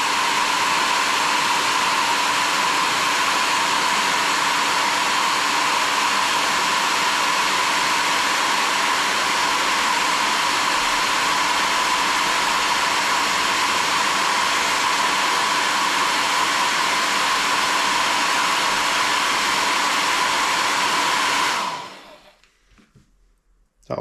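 A hair dryer blows steadily and loudly for about twenty-two seconds to warm heat shrink on a shoelace tip. It gives a continuous broadband whoosh with a motor whine, then cuts off abruptly.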